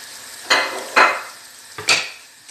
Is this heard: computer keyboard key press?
no